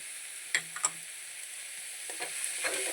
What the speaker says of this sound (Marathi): आता त्याला कांद्यांमध्ये कालवून घेऊया आणि याला छान भाजू देऊ खरपूस होईपर्यंत